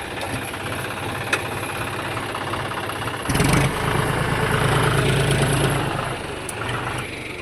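Tractor diesel engine, either a 2018 John Deere 5050 Di or a 2021 New Holland 3630 Super, running with a steady rumbling, knocking idle that rises in a louder burst midway, heard close with no talking.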